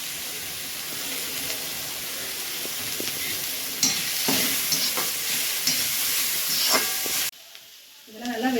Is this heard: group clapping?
no